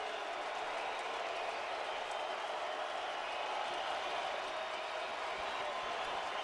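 Steady roar of a stadium crowd at a Utah State at Fresno State college football game, a dense, even wash of distant cheering and murmur without a break.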